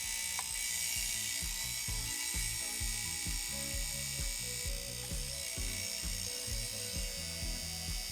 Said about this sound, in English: the noise it was making was just the head reaching the end of the track